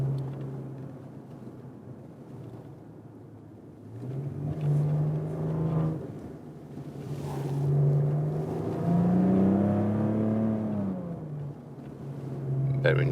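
Exhaust of a Maserati Ghibli SQ4 with a 3.0 l V6 of 410 hp while driving uphill, a steady low drone that swells as revs rise and fall, heard from inside with a voice talking over it.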